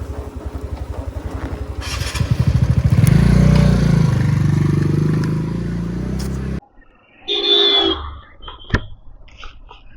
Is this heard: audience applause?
no